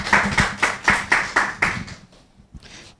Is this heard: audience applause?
yes